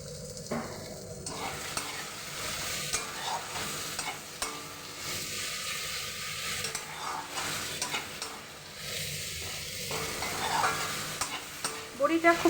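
Fried potatoes and fenugreek leaves with crumbled lentil bori are stirred in a pan. Steady sizzling frying runs throughout, with repeated scraping stirs near the mic, and there is no talk.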